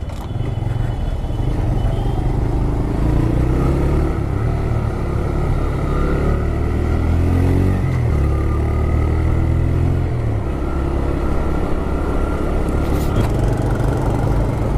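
TVS Raider 125 motorcycle rolling along with its clutch mostly pulled in, a steady close engine drone and low rumble with rattly clatter throughout, no pauses.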